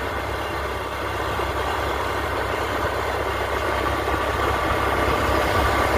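A scooter engine running steadily, a continuous low rumbling drone with a constant level and no speech.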